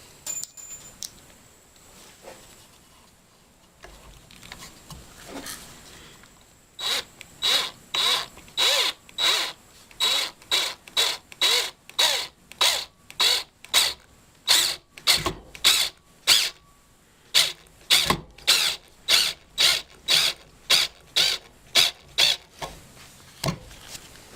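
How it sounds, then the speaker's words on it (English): Power drill driving a screw into a scrap-wood shelf bracket, a rapid run of short, evenly spaced loud bursts of the drill, close up, after a quieter stretch of handling at the start. "Then go ahead and put the screw in."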